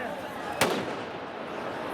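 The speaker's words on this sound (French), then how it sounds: "Des jeunes, alcoolisés, lancent des feux d'artifice au milieu de la foule" Fireworks set off in the middle of a New Year's Eve crowd: a single sharp crack-bang rings out once over a steady murmur of crowd noise and voices.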